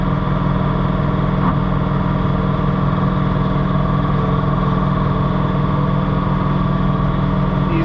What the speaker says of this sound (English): Well, she's blowing snow today.